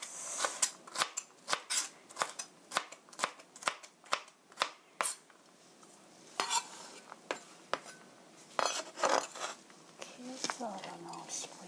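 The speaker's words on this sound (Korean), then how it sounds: "파프리카 썰 때는 이렇게 뒤집어서 썰면 손을 다치지 않고 잘 썰 수가 있어요" A kitchen knife slices a bell pepper on a cutting board in quick, regular chops close up. The cutting is steady at first, then more uneven, with a soft voice briefly near the end.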